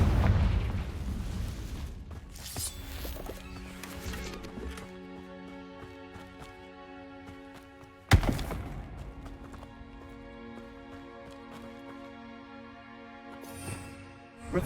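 The Confringo fire spell explodes in Hogwarts Legacy with a booming blast, a second burst a few seconds later, and ringing magical tones and rumble trailing under each.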